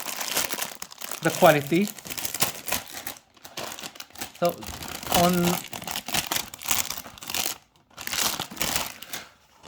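Plastic packaging around ValetPro car drying towels crinkles and crackles in short bursts as it is opened, with someone talking over and between the rustling.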